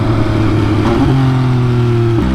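An MV Agusta Brutale 800 RC motorcycle is heard close up as its engine note drops in clear steps through a couple of downshifts, the revs blipping and settling into a steady lower drone.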